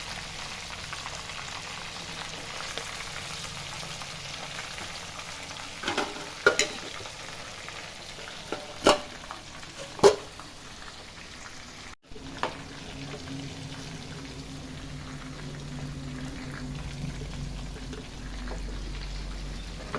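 Chicken frying in oil for a Chinese chicken gravy, a soft steady sizzle broken by a few sharp stirring clinks and scrapes, fairly quiet throughout.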